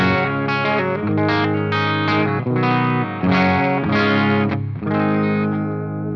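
Clean electric guitar played through a Fender-style amp model with bass, middle and treble at 5 and gain at 3, no pedal engaged; chords and picked notes ring steadily and loudly with a slight grit and no talking.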